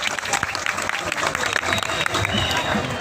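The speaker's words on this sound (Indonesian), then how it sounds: "Tepuk tangan dulu untuk Ibu Kades." A crowd claps steadily and continuously, a dense patter of many hands filling the room, with voices faintly mixed in.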